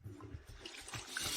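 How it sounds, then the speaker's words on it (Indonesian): A tap left running indoors gives a faint, steady splash and hiss of flowing water, continuous and low in level throughout. "Mungkin keran air lupa dimatikan."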